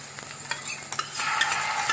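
Vegetables for Indo-Chinese paneer chilli stir-fried in a pan, quick scraping and tossing strokes from a spatula over a rising sizzle, close and fairly loud, no voices.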